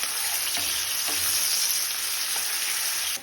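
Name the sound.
onions frying in oil for bitter gourd curry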